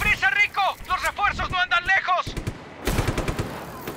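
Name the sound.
gunfire shooting at the player in Just Cause 3 video game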